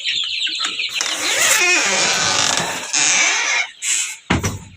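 A broody Kuchin hen clucks and churrs up close, giving a sustained raspy call followed by a few short sharp clucks toward the end.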